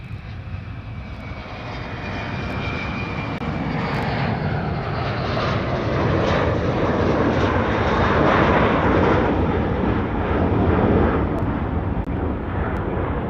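A Boeing 777 jet lands on runway 8 left at Honolulu airport in Hawaii, its engine roar swelling from a distant rumble to a loud, broad whoosh and staying strong as it nears, with no voices.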